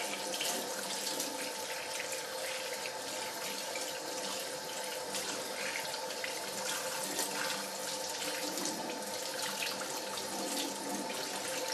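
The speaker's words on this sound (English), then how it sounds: "Rinse it all off. Make sure, you know, it's been rinsed off." Running tap water splashes steadily into a kitchen sink as a whole fish is rinsed off, a constant close hiss with small irregular splashes and no talk.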